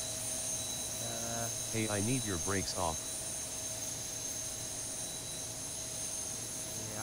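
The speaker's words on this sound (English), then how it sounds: "Engine 2 starts up." A simulated Boeing 737 engine (ZIBO 737 in X-Plane 11) runs at Stansted with a steady, high jet whine and hum. A voice speaks briefly over it.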